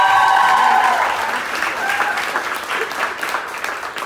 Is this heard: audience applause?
yes